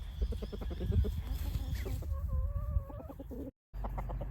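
Chickens cluck in a farmyard as a rooster courts his hens, with steady close clucking and several drawn-out tonal calls, set against continuous low background rumble and a brief dropout near the end.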